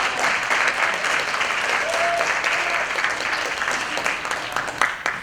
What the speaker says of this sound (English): Let's give another round of applause for the director